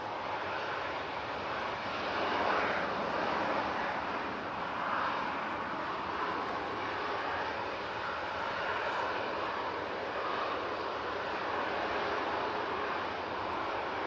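An aircraft departs Manchester Airport during Storm Amy, its distant engine roar a steady broadband rumble that swells and eases over about fourteen seconds, with wind noise mixed in.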